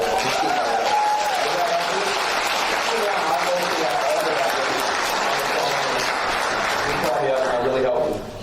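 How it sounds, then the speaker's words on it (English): Applause from a regional meeting audience rolls on steadily for several seconds while a voice carries on speaking over it, the clapping tapering off near the end. "let's give her a big round of applause, right?"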